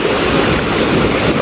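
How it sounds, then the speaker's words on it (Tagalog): Big ocean waves at a Lian, Batangas beach resort give a loud, steady surf roar mixed with wind buffeting the microphone. "Ay, malaki ng alon, no."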